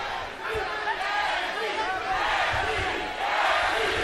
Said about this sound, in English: Crowd chanting for Tim Bradley.